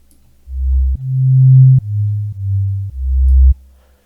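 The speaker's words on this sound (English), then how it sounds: "A simple subtractive sine wave synthesizer, which I need to arm" A pure sine tone from a simple subtractive synthesizer shaped by an ADSR envelope, sounding as four sustained low notes in a row, each starting and stopping cleanly, loud and alone.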